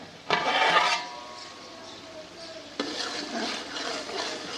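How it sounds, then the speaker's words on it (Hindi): A lid lifted off a cooking pot of potato pulao, with a sharp clatter followed by soft steam hiss, then a second metallic clang and ongoing faint sizzling, with no talk. "अब ढक्कन उतार लेते हैं, चेक कर लेते हैं आलू हमारे गले हैं कि नहीं।"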